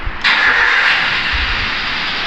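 A Toyota Avanza engine starts with a quick crank that catches into a steady, loud idle, close by and alone with no talk.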